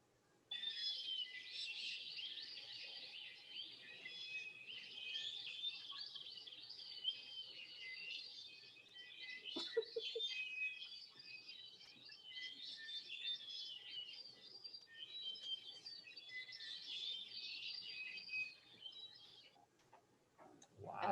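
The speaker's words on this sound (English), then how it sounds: "there's a lot of birds" Played-back recording of many Hawaiian forest birds singing at once, a dense, continuous chorus of high chirps, trills and whistles, fairly faint and steady, with a soft thump midway.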